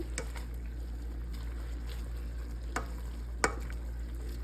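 Laing (taro leaves) being stirred in a cooking pot, a few faint scrapes and knocks of a spoon against the pot over a steady low hum, quiet and sparse.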